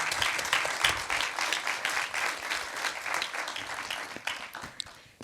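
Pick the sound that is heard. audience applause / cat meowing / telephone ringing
audience applause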